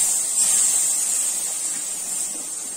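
Milk poured onto roasted semolina in a hot pan for rava firni gives a steady, close, bright hissing sizzle. It sounds strongest at the start and eases slightly over a few seconds, with no talking.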